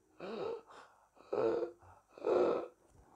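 A voice imitates stridor, the harsh wheezing of an obstructed airway: three rasping noisy inhalations with short pauses between, close and fairly quiet.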